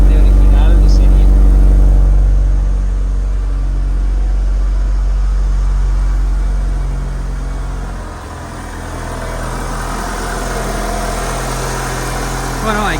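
A white Mitsubishi Lancer Evolution VIII idles through its original stock exhaust, a steady deep rumble close by that dips briefly and settles again, with a person talking over it.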